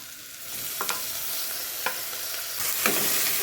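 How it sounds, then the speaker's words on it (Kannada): Onions and potatoes fry in a pan with a steady broadband sizzle, broken by a few sharp scraping clicks of a spatula stirring at close range; no voices. "ಇವಾಗ ನೋಡಿ ಉಳ್ಳಾಗಡ್ಡಿ ಸ್ವಲ್ಪ ಫ್ರೈ ಆಗಿದೆ"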